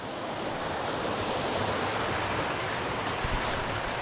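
Mountain stream rapids and small waterfalls rush steadily on a forested hiking trail near Bohor in Slovenia, a loud, dense, unbroken roar of water filling the whole stretch without speech.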